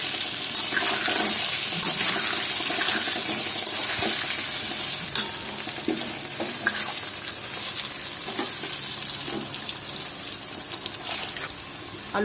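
Potatoes seasoned with salt and turmeric fry in hot oil for a Bengali mutton curry, giving a steady, close sizzle with occasional crackles and stirring scrapes throughout, with no voices.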